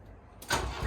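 A 1985 Peugeot J9 diesel van with 133,000 km and a holed exhaust cranks and catches, quiet at first, then a sudden loud start that settles into a rough, steady low idle.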